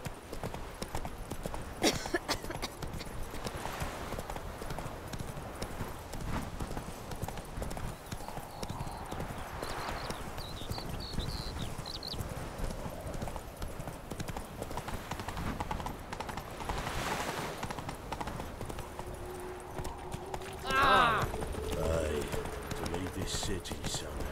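A horse galloping in The Witcher 3, its rapid rhythmic hoofbeats clip-clopping steadily for the whole stretch under occasional in-game speech, with a brief whinny and other game sounds mixed in.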